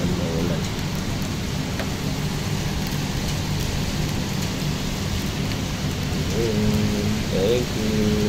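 Steady rain pours down in a constant dense hiss during a rainstorm with lightning and flooding, with faint low rumbles of distant thunder and a few brief chirps.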